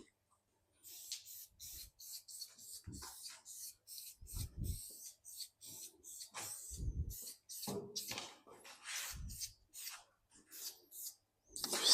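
Repeated short scraping and rasping strokes removing corrosion from a Mercedes car door down to bare metal, close and fairly loud, in uneven bursts with brief pauses between them.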